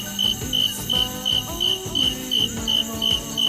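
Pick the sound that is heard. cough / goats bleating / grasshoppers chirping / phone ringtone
grasshoppers chirping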